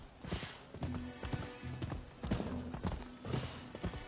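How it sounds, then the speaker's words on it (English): In the video game Rise of the Ronin, a horse is ridden at a steady pace. Its hooves clip-clop rhythmically and continuously over a dense game ambience. "Time I ride this horse"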